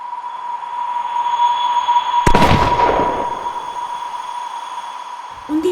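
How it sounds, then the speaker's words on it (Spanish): A single loud hunting shotgun blast bursts out over a steady hum, its rumble rolling away through village streets and fading over a couple of seconds like a distant echoing shot. "Un disparo de escopeta de caza retumbó por las calles"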